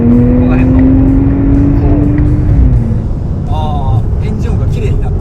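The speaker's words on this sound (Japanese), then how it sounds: "エンジン音が綺麗になった。" A Nissan Fairlady Z NISMO RZ34 with its VR30DDTT twin-turbo V6 runs loud and close from inside the cabin, a steady engine drone whose pitch climbs and then drops, while people talk over it.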